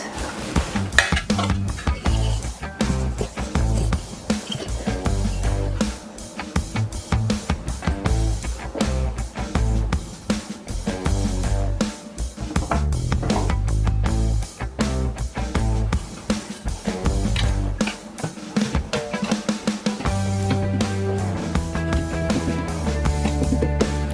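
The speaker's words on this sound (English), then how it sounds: "I'm using the dough cutter now. Its other name is scraper." A dough cutter scraper working pâte sucrée tart dough on a work surface, giving continuous busy scraping and chopping textures with rapid irregular taps, close and fairly loud.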